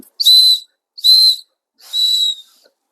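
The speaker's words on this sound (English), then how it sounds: "you just blow this whistle" A hiking whistle blown in three sharp, shrill blasts, each about half a second long with short gaps between, loud and close with no talking.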